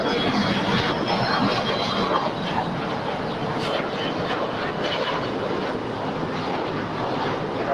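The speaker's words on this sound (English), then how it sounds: "Heavy Airbus 350, caution wake turbulence, wind 250." A heavy Airbus A350 jet airliner at LAX gives off a steady, loud, broad engine roar that holds evenly throughout with no gaps.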